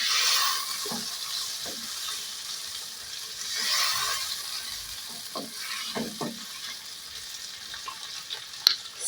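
Onion and tomato frying in a pan give a steady, soft sizzle with occasional stirring scrapes and light clinks close by.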